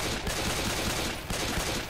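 Dense, continuous gunfire from the video game Left 4 Dead 2 fills the moment, a steady burst of rapid shots at even loudness with no pause or talk.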